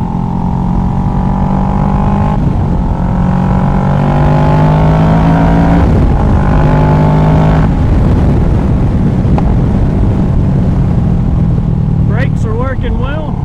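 Kawasaki Ninja 650 sport bike fitted with a Delkevic exhaust, heard from the rider's helmet mic while riding: a loud, steady engine drone with gear-change dips and rises throughout, continuous and close, with wind buffeting.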